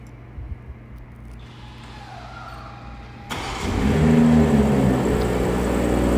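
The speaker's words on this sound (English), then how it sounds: "And the car starts up for you." A BMW car engine starts remotely by key fob, cranking and catching after a few quiet clicks, then settling into a steady close idle rumble.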